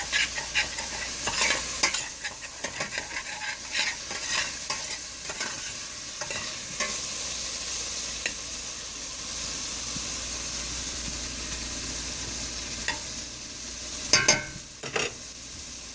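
A small amount of meat frying in a pan, a continuous loud sizzle and hiss with repeated scraping strokes of a utensil stirring it, sharper clatters near the end, no voices.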